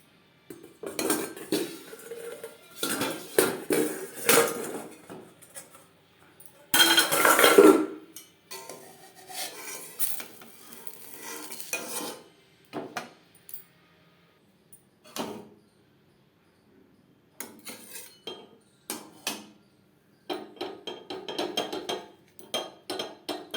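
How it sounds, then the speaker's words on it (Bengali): Rice-flour batter for chitoi pitha being whisked by hand with a metal utensil against a bowl, giving bursts of quick scraping clinks separated by pauses, close and fairly loud. "প্রত্যেকবার ব্যাটারটা দেওয়ার সময় এভাবে একটু ফেটিয়ে নেব।"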